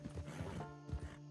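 A short burst of horse hoofbeats with a brief whinny in Red Dead Redemption Online, thumping and clopping close by, with no talking.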